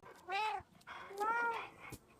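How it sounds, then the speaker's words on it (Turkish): A street cat meows twice in the VR game I Am Cat, two clear drawn-out calls, close and moderately loud over a quiet background, with no talk. "Sokak kedisi varmış."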